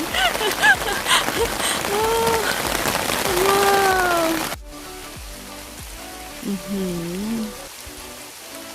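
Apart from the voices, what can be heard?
rain falling on a heathland flower field and pine forest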